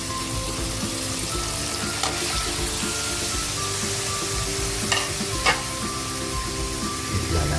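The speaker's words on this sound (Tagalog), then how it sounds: "lagyan na natin yung ating squid, pusit" Squid for adobong pusit sizzles and fries in a pan, a continuous close crackle with occasional stirring scrapes and taps.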